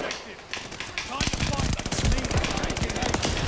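Rapid automatic gunfire from a weapon in Call of Duty: Vanguard, a dense continuous burst of shots that fills the clip, loud and close, with game noise mixed in.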